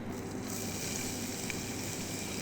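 Onions in a hot pan beside lamb being prepared, a steady even sizzle and hiss throughout, close but fairly quiet, with no talking.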